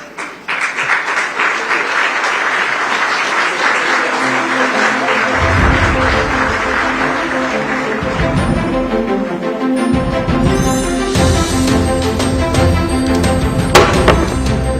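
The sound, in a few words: audience applause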